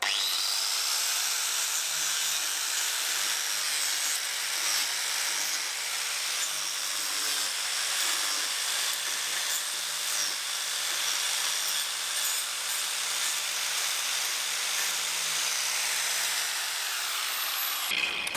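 An angle grinder fitted with a chain disc cuts into wood with a continuous, high-pitched grinding and rasping whine, steady and close for the whole stretch, with no voices.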